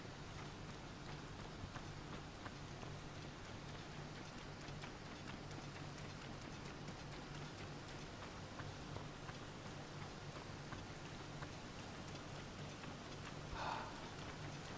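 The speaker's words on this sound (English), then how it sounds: "Just the sound of that rain. Very nice. Very calming." Rain falls steadily in Zelda: Tears of the Kingdom, a soft, continuous patter on surfaces that stays even and fairly quiet from start to finish.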